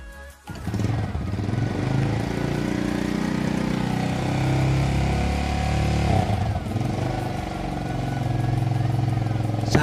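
A Yamaha Vega R motorcycle with a smoking exhaust starts and runs close by, a loud continuous buzzing engine note that holds steady and rises slightly toward the end.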